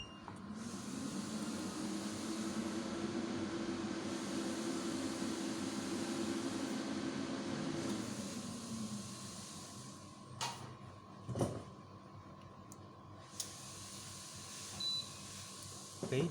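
Rackmount 48V 5kW hybrid off-grid inverter switching on, with a steady electrical whir and hum for several seconds that then drops away. A few sharp, isolated relay-like clicks follow in a quieter room.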